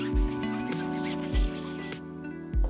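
Someone sands a 3D-printed part for a Withered Foxy build, producing a close, continuous rubbing scratch with a few soft thumps as the piece is handled.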